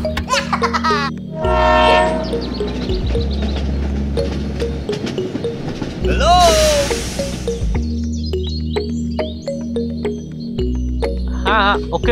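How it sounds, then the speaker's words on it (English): A toy train rumbles along with a low mechanical hum, sounding its horn and whistle, while bright musical jingles and effects play over it. "The train can go through."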